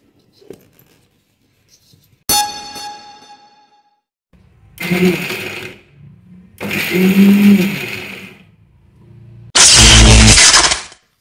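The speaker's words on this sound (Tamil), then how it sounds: "இப்போ நம்ம அரைச்சிட்டு வந்துடலாம்" A mixer grinder grinding tomatoes, cashews, yogurt and green chillies whirs in several short bursts separated by pauses, the final burst loudest, with a brief clatter and a high tone early on.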